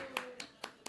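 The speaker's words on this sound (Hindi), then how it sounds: "तालियां।" Four sharp, evenly spaced hand claps ring out at a family home during Indian wedding preparations. They are fairly faint and close, with a voice briefly audible underneath at the start.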